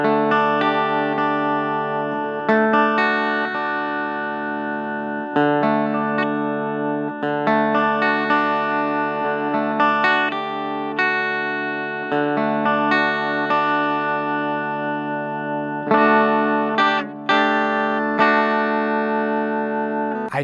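A Harley Benton Firefly Les Paul-style guitar played through its humbuckers on a clean tone rings out in sustained, full chords and melodic notes, close and continuous with no talking.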